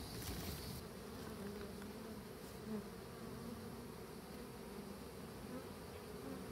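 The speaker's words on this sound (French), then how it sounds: "Alors là on a les abeilles" Honeybees fan at a hive entrance with abdomens raised, calling the colony, a steady dense close buzz that holds evenly throughout.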